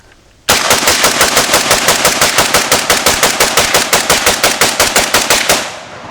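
Fast automatic gunfire from a Vepr AK rifle emptying a full magazine outdoors, a steady loud string of evenly spaced shots lasting about five seconds before cutting off, with no talking.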